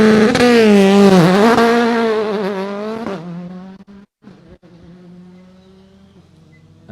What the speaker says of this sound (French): on vous laisse profiter du départ de la C3 Rallye 2 du team CHL Sport Auto